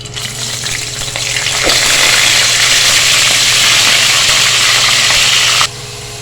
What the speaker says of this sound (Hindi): अब इसी ऑयल में हम नमक लगे चिकन को फ्राई करेंगे।